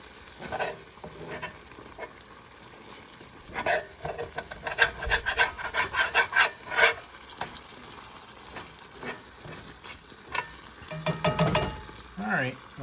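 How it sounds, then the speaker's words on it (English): Hungarian chicken paprikas sauce simmering and bubbling in a pan, broken by repeated scraping strokes of stirring that come in close, rhythmic clusters. "Gonna take that down to a lower simmer"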